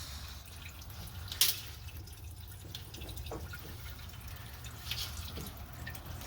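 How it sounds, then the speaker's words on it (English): Water trickles and drips from the exhaust of a mini jet boat being rebuilt, a low steady wash with a few sharper splashes, heard up close with no talk. "We have water coming out of the exhaust."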